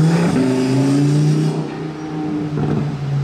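A Lamborghini Huracan Performante revs as it drives past, its loud engine note rising and falling in steady pulls, close and alone.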